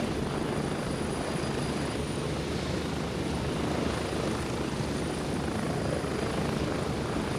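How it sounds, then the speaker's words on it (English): Helicopter in the military shooter game Gray Zone Warfare, a loud, continuous rotor and engine drone that stays steady and close for several seconds with no talk over it. "Got this helicopter sound in my ear."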